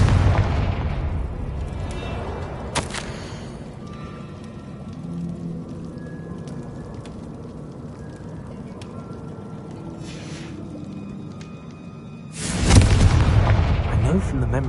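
Confringo blasting spell explosions in Hogwarts Legacy, with a booming blast at the start, a sharp crack a few seconds in, and another loud explosion near the end, between quieter magical ambience.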